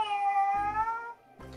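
Electronic toy kitten, a Little Live Pets dream kitten, giving a short synthetic happy meow followed by softer purring-like chirps, close and fairly quiet.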